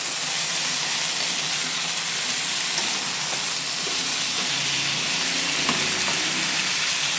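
Chicken and papaya tinola, Batangueño style, stirred and simmering in a pot, giving a steady hissing sizzle with faint scraping and clinks, close and continuous, with no voices.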